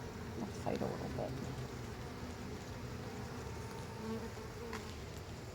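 Honeybees swarming over each other during a hive inspection give off a dense, continuous close drone that holds steady throughout, with brief muffled voices early on.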